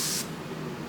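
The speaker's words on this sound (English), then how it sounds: "I also have a few bottles of the Evian spray" A brief hissing burst from an Evian facial water mist spray, a single short puff that cuts off quickly and leaves faint room noise behind.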